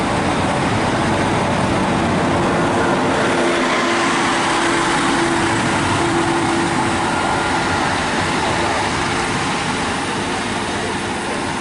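Two Arriva Trains Wales class 152 diesel multiple units on a delayed service pass at Pontyclun on the South Wales Main Line, a loud steady rumble with broadband rail roar throughout and no speech.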